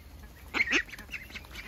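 A few quick, nasal quacks from young ducklings growing yellow down come in a brief cluster, moderately close, over a faint background hum on a farm.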